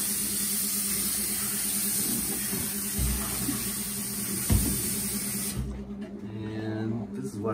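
Water sprays steadily in a utility sink while Suzuki GS1000 motorcycle carburetors are rinsed, a close, continuous hiss that cuts off near the end, leaving faint clunks and rattles.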